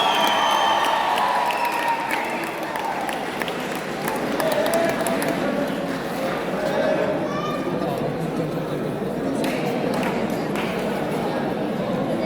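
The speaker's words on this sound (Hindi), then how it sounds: "जोरदार तालियां बजाएं भाई मेहमान टीम के लिए।" A crowd at a North Zone inter-university kabaddi final claps and cheers for the visiting team, steady loud applause mixed with chatter and voices throughout.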